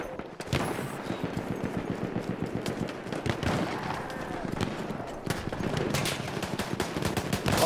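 Rapid gunfire from the video game Battlefield 1, dense bursts of shots and scattered single cracks in a busy battle mix, with a voice talking over it.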